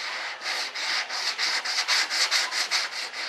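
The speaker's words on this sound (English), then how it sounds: "Just this sanding will take care of it." Sandpaper rubs back and forth over the primed surface of a model RC B-1 bomber jet, rhythmic close scratchy strokes repeating steadily.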